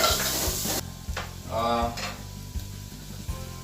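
Small onion pieces frying and being stirred, a low sizzle with rhythmic spatula scrapes and knocks on the pan, near and moderately loud, with a faint voice in the background.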